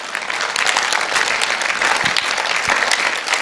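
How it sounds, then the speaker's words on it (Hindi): Seminar audience applauding steadily for several seconds, a dense, even wash of many hands clapping close by with no talk over it. "एक बार जबरदस्त तालियां।"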